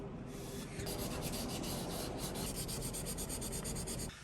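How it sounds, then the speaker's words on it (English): Wooden parts being hand-sanded with higher-grit sandpaper in a woodworking shop: a close, steady, continuous rubbing rasp that grows slightly louder after the first half-second and runs unbroken until it stops abruptly, with no talking. "I'm just going to give them a final sand down with a higher grit"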